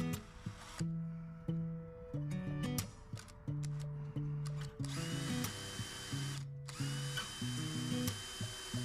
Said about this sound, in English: first thing I'm going to do is drill the top hole and the bottom hole.